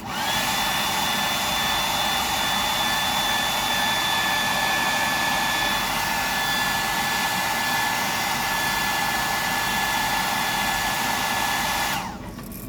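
A hair dryer used to dry undercoat on a custom fishing lure blows in a loud, steady whirring roar with a faint high whine, running continuously until it cuts off near the end.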